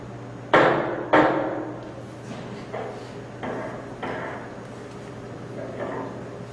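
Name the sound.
hammer smashing tissue sample on card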